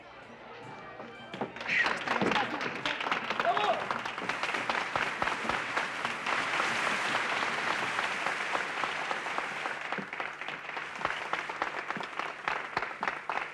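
Audience applause at a theatrical television performance, dense steady clapping that swells and continues at length, with a few voices mixed in.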